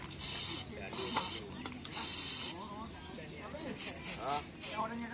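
Water sprays onto racing bulls at a Madurese karapan sapi bull-racing practice in Pamekasan, in several loud hissing bursts between pauses, with people talking and shouting throughout.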